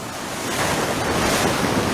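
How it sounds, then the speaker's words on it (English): Big ocean swell breaking on Dover Beach at daybreak, a steady loud roar of surf with wind buffeting the microphone, building slightly toward the end. "I got a big swell that's about to come in"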